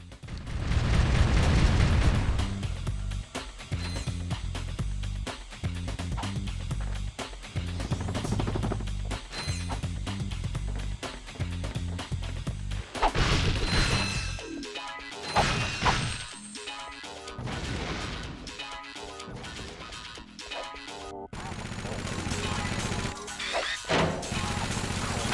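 Enemies in Ratchet & Clank get smashed and blown apart in a rapid string of loud crashes, whacks and explosive bursts, dense and chaotic for most of the stretch with brief lulls between volleys.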